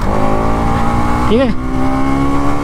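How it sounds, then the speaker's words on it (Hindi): A 2024 Bajaj Pulsar NS 200 motorcycle engine runs loud and close in a steady, droning hum with a brief rising whine partway through, while someone speaks a few words. "और बाइक काफ़ी ज़्यादा लाउड है भाई।"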